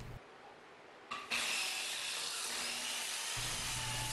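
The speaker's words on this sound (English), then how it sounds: "I move on to the grinder and the large disc." An angle grinder with a large, brand new disc grinds the top of a steel welding table, a steady broadband whirring roar that swells after a quieter start and then holds loud and continuous.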